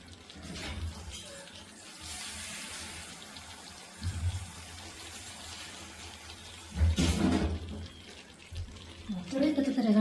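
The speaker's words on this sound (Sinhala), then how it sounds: "මම මේක වතුර එකතු කරන්නේ හාල් ටික යන්තම් වෙන ගානට" Water pours into a chicken biryani pot in a few splashing bursts, the strongest near the middle and the end, with a voice talking intermittently.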